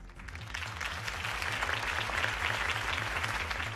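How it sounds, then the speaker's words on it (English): A large crowd applauds after a mayoral campaign speech in the Batman Telltale Series game, dense steady clapping sustained and fairly loud throughout with no voices over it. "If only Mr. Wayne, my campaign's largest backer, could have heard that applause"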